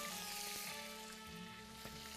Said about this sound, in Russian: добавляем туда сливочное масло и начинаем обжаривать